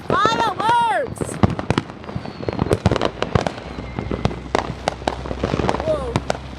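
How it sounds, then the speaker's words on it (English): Fireworks go off in a dense, irregular series of sharp bangs and crackles at an outdoor display, with excited voices shouting and talking over the explosions. "There's some fireworks!"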